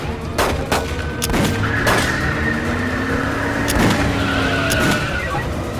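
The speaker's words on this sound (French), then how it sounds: "Coup de feu, on a des coups de feu." Gunfire during a film car chase, sharp shots cracking out at irregular intervals over a steady roaring car engine and tyre noise, loud and close.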